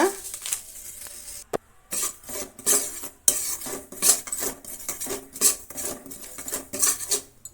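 Poppy seeds roasting in a pan while a spoon scrapes and stirs them, producing irregular close metallic scrapes and clatters in uneven bursts with short pauses, no voices.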